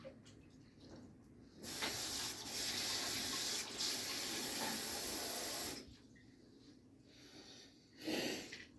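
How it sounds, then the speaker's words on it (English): Water from a kitchen tap runs steadily for about four seconds as hands are washed beneath it, stopping, then a short final splash follows; the sound is fairly quiet and heard alone. "And I gotta wash my hands again."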